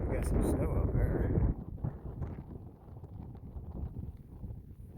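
Chilly wind buffets the microphone on a mountain trail of the Appalachian Trail, a loud rumbling gust at first that eases into a lower, uneven blustering.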